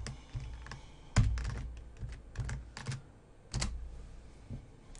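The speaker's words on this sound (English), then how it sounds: "And you type, I agree, all caps." Quick bursts of keystrokes on a computer keyboard, close and fairly quiet, in short irregular clusters with pauses between them and no talking.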